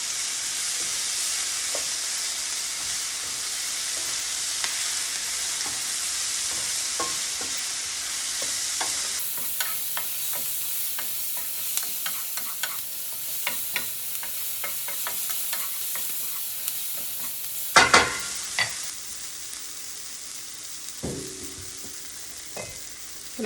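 Portobello mushroom stuffing frying and being stirred in a pan, a steady close sizzle with scattered scraping and clinking, loud stir clatter near the end.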